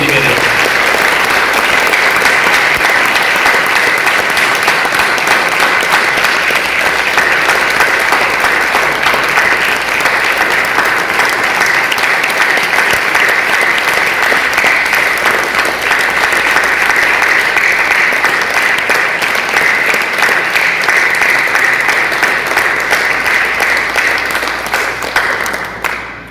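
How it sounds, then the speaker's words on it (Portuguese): A church congregation gives long, sustained applause, a dense, loud wash of many hands clapping without a break before it fades slightly at the end. "Dá um aplauso para o Senhor,"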